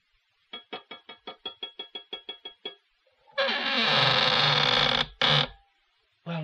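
A secret door in an audio drama opens with a run of evenly spaced clicks, then a long, loud grinding creak, a short second scrape and silence.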